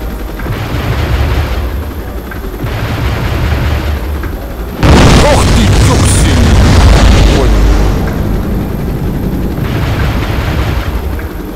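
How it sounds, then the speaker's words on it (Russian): Explosions and gunfire from the Helicopter Strike Force video game form a loud, dense, continuous roar, swelling into a heavier blast barrage midway and then easing back to steady rumbling. "Взрывы, конечно, здесь чересчур."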